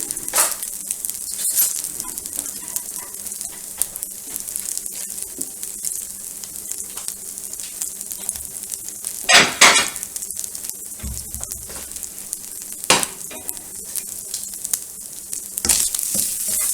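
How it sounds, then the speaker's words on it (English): Corn tortillas crisp in a pan with a little oil, giving a steady low sizzle and frying crackle. A few sharper clinks and scrapes of utensils against the pan break through now and then, with no talking. "I put them in a little bit of pan with a little bit of oil so they didn't dry up"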